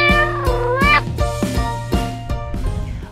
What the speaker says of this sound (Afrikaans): daar op die bank lê my kat Sally.